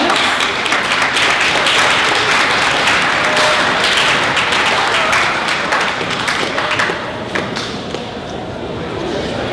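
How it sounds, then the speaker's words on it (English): A crowd applauds continuously, dense clapping filling the room before gradually thinning out toward the end. "give a nice round of applause for our panelists"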